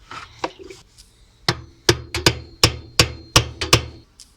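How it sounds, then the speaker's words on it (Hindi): Sharp metallic hammer blows on a chisel, used to tighten the nut on an automatic washing machine gear, with about a dozen loud, close strikes coming in an uneven rhythm that speeds up toward the end. "छेनी थोड़े की मदद से इसको हम ज़र्ब लगा के टाइट कर रहे हैं।"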